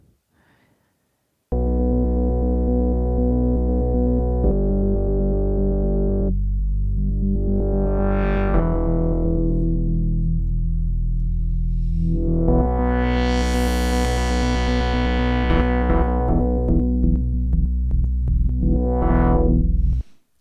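A Sequential Fourm synthesizer plays sustained chords with sweeping filter rises, shimmering with echoing delay and lush reverb tails, loud and alone.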